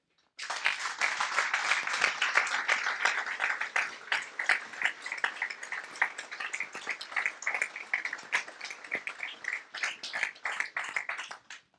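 A crowd applauds steadily for about eleven seconds at a municipal council installation meeting, loud and dense clapping that thins slightly toward the end, with no talking.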